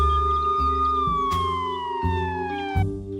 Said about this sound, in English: I put a quarter into the siren.